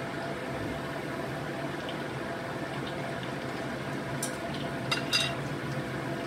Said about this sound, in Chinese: 慢慢咁去煎炸佢